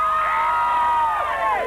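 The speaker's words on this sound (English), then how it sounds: "You can probably hear the crowd behind us." A crowd cheers, shouts and whoops after the total solar eclipse on Alderney in 1999, a loud, sustained roar of many voices with a few high rising calls over it.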